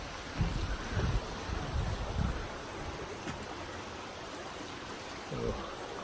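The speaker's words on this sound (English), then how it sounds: "going across a little creek here." A little creek flows beside a woodland path near a house and garden, a steady close wash of running water with some low thumps and handling noise in the first seconds.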